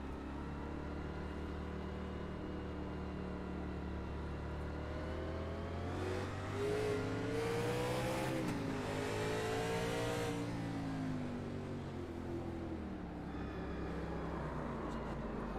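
Stock cars in a race at an oval track rev and roar around turns 3 and 4 after the pace car pulls off, a steady layered engine drone rising to a louder pass in the middle and easing off.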